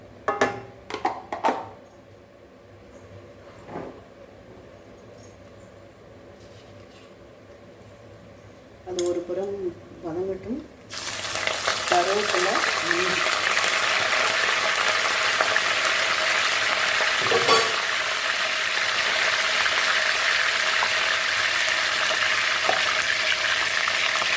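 Cashews go into ghee for Chennai-style pongal and fry with a soft, steady sizzle that starts abruptly partway through and continues evenly, after quieter clinks and a brief voice.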